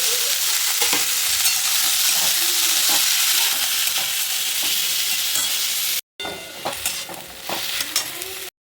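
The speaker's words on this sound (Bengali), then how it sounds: "এখানে আমি আলু উচ্ছে ভাজাটা বসিয়ে দিচ্ছি" Potato and bitter gourd frying in a pan, a dense close sizzle with repeated stirring clatter, briefly cut off near the end before resuming more unevenly; no voices.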